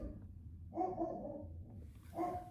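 A dog indoors gives a few muffled barks and yips, a pair of short bursts followed by another a moment later, moderately close and fairly quiet.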